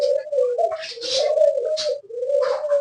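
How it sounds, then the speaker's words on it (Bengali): Pet pigeons or doves coo in a steady, rolling drone, close and loud, with the low cooing phrases running almost unbroken and no voices over them. "আমার আদরের পাখি এবং আমার দুষ্ট পাখি"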